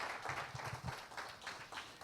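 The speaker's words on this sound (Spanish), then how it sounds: "Fuertes aplausos si es para el Señor." A church congregation applauds at a Spanish-language service, a quiet, fairly brief patter of many hands with scattered sharper claps, faint and somewhat distant.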